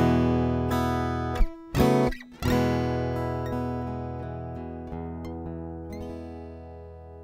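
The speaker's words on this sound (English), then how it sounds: "we'll have a listen to the sound of this PRS SE acoustic guitar just as it stands through the uncolored Orange preamp" A PRS SE acoustic guitar played through an uncolored Orange acoustic preamp rings out in strummed chords and single plucked notes that decay slowly, with no voices.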